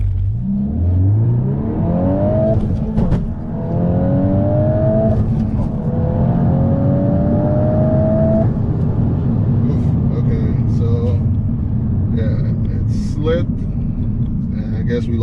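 A tuned VW MK8 Golf R on a 93-octane tune with traction control fully off accelerates hard, its engine note climbing through several rising gear pulls with brief breaks at the shifts, loud and close, with a voice speaking over it.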